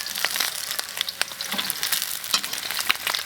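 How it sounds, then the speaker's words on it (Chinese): Pork ribs fry in hot oil in a pan with a close, steady crackling sizzle, broken by sharp pops and spatters and the scrape of a utensil turning the meat. "不要炸出金黄的那种啊，煎出金黄色的，来翻翻"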